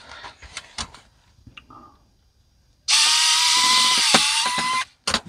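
An electric screwdriver removes screws from a Nintendo N64 console. Light clicks and taps come first, then a loud, steady whirring run of about two seconds, followed by a brief second burst.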